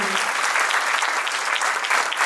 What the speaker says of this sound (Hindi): मैं चाहूंगा अविनाश कुमार गुप्ता जी के लिए जोरदार ताली हमारे गुरुजी